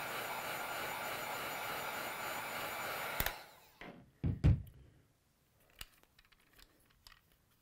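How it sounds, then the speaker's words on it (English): A heat gun blows steadily on the plastic of a 1983 Hasbro G.I. Joe Cobra F.A.N.G. toy, a constant airy whoosh that cuts off abruptly, followed by a few quiet knocks and handling clicks. "You want to keep this heat gun moving"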